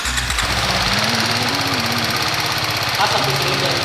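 A BMW G310R motorcycle engine idles with a steady, throbbing low rumble and faint mechanical rattle, loud and close throughout.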